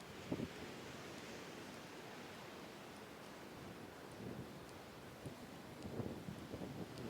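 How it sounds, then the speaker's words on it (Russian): Strong winter storm wind sweeps the Yalta seafront on a February evening, a low, continuous roar buffeting the microphone with occasional heavier gusts. No voices are heard. "Ветер просто капец."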